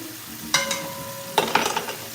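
Washed rice is stirred in a pot for a Sunday dinner of oxtails and rice and peas, giving two short bursts of scraping and rattling against the pot over a quiet background hiss.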